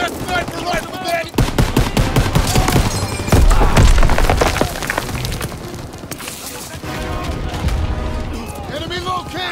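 Rapid gunfire from Call of Duty: WW2 during the Operation Cobra campaign, with dense automatic bursts and heavy impacts crowding the whole stretch, loud and close, while voices shout over the battle.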